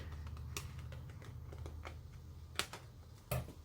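Scissors snip through a sheet of paper along a drawn arc in a short series of crisp, close cuts, with quiet room noise between the snips.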